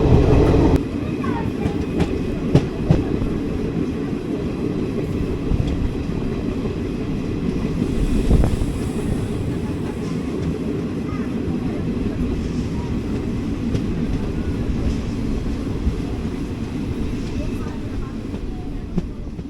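Balurghat–Siliguri Intercity Express with twelve coaches running toward Siliguri: a steady, loud rumble of wheels and carriage noise rolls on throughout, with occasional clanks and a brief swell near the middle, and no distinct talk.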